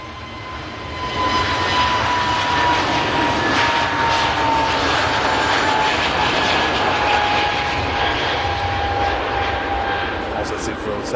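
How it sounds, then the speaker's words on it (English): A British Airways A320neo-family airliner roars loudly and steadily during its takeoff roll and rotation at a busy airport, a thin whine running through the engine noise as someone talks over it. "Positive rotation on that British Airways Neo heading back to London Heathrow"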